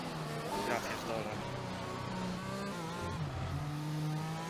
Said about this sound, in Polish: Dodałem za dużo gazu, za to safety carem w ścianę wywaliłem